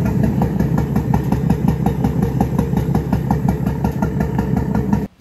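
A close BMW N55 engine idling rough and misfiring with a loping, uneven rhythm, steady pulses that stumble now and then, before cutting off at the end.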